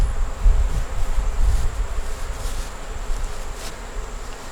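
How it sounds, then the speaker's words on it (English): A crowd of bees buzzing at a hive entrance outdoors, a continuous close drone with a light breeze rumbling underneath and no voices. "down here we got a bunch of bees"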